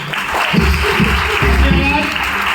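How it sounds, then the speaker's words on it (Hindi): Applause from a crowd at a company achievers' event in Meerut, a dense wash of clapping with some voices mixed in, fairly loud and continuous. "जबरदस्त ताली"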